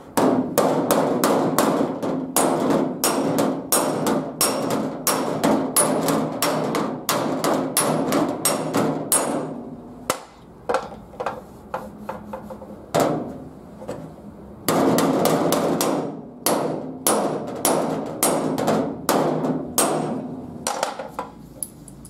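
Sheet-metal bodywork on the hood of a 1950 Ford: a hammer strikes the steel panel in rapid, ringing blows, loud and close, with a few brief pauses and scattered single taps in between.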